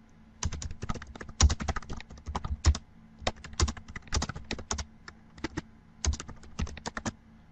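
Keys on a computer keyboard clack in quick irregular bursts with short pauses between them, close and fairly quiet, with no voices over the typing.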